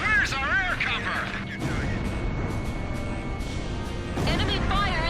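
Heavy gunfire and rumbling explosions in the Ace Combat 5 video game's Fortress mission, continuous booming artillery under warbling radio chatter and game music, with voices talking over the din.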